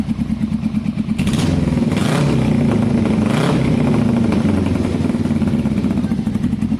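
A Kawasaki cafe racer motorcycle engine idles steadily up close, its loud, continuous exhaust throb holding even throughout, with a few brief sharper blips rising over the running engine.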